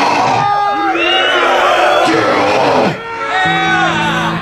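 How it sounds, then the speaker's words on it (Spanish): Crowd at a Brutal Crisis death metal show at the Tianguis Cultural del Chopo yelling and cheering, a loud, dense wall of overlapping shouts and whoops that dips briefly before surging again. "Que se oiga un pinche grito de todo el chopo."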